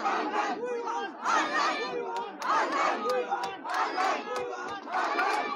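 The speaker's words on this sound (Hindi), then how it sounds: "इतना ज्यादा भीड़ है, इतना ज्यादा शोर है" A crowd of university students at North Bengal University shouts for online examinations, rhythmic chanted bursts repeating about once a second, loud and close, with voices rising and falling in unison.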